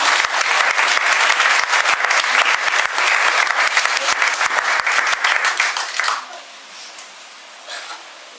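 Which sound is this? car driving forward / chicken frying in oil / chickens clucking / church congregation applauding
church congregation applauding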